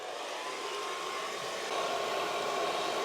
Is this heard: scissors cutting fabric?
no